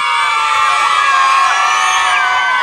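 Children's crowd cheering, whooping and shouting loudly for a maypole dancing team at a school event, a dense continuous roar of many young voices throughout.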